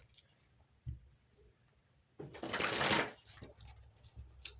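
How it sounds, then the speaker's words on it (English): Oracle cards riffled in a shuffle during a tarot reading, a burst of close papery flutter lasting under a second amid quiet handling sounds, with no speech. "One more shuffle."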